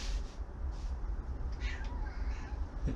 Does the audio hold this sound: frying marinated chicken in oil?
no